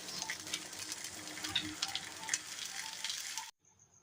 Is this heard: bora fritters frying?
yes